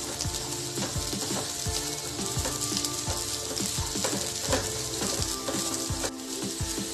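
Carrots and fresh peas sautéing in a pan, a soft continuous sizzle under a rapid train of clicking, rattling spatula taps and scrapes, with no talking.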